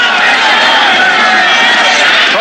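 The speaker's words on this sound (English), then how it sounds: "A very vociferous crowd at Legion Field." A large, vociferous football crowd roars continuously at Legion Field during a 1984 USFL divisional playoff game, a dense loud wash of cheering with no breaks.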